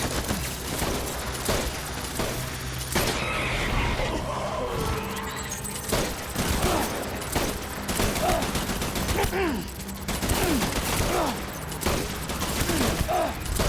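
Dense handgun gunfire in the video game Death Stranding, rapid cracking shots and impacts layered over game effects and background music throughout, with a player's voice faintly audible.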